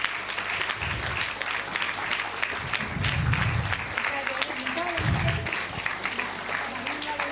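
Audience applause at a medical education conference event honouring staff, steady clapping running throughout with louder swells, mixed with talk and a low hall hum.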